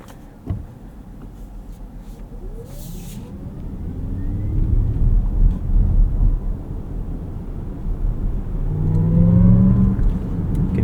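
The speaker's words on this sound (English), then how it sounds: "Some of that augmented EV driving noise right there." A 2026 Lexus ES 350e on the road plays synthetic augmented EV driving sound, with faint rising and falling tones over a low rolling rumble that swells as the car speeds up.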